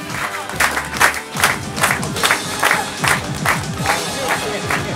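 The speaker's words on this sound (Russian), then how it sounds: "аплодисменты вам," Studio audience at a televised Azerbaijani quiz game show applauds in steady rhythmic bursts of clapping, lively and close, with voices mixed in throughout.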